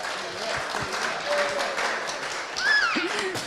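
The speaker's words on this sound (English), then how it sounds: "Should we give him a bit of a cheer? Go and cheer." Crowd cheering and scattered clapping, lively and close, with whoops and raised voices rising toward the end; children and adults sound mixed in an informal group.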